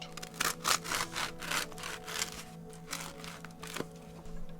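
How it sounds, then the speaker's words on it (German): A knife saws back and forth through bread rolls for fish sandwiches, giving a run of rhythmic rasping strokes that are close and moderately loud with brief pauses between them. "Nu schneiden wir die Rundstücken ab."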